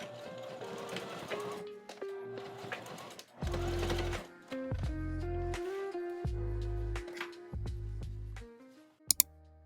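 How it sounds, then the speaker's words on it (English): Home sewing machine stitching through thick denim in short bursts, motor whirring and rising in pitch with heavy rhythmic needle thumps, pausing between runs and ending in a couple of sharp clicks, close and clear. "my sewing machine just keeps jamming and it's not taking it"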